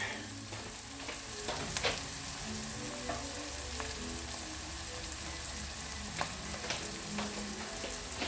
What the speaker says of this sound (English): it's starting to saute. The onions are changing color a little bit.